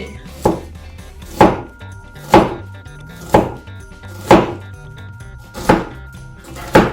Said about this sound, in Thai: หั่นไปเรื่อยๆ นะครับ